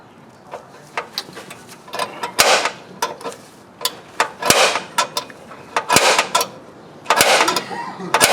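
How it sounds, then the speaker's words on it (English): A hole punch dimples sheet metal: repeated sharp metallic taps and clicks ring out at close range, an irregular series of strikes on a hard metal surface with brief scraping in between. "we're going to dimple this sheet metal with this hole punch"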